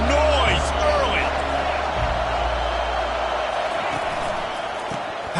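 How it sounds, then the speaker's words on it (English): A stadium crowd at a Florida State vs Miami football game roars steadily, a dense, loud wash of cheering and noise with a broadcast commentator talking over it. "This crowd bringing the energy and noise early."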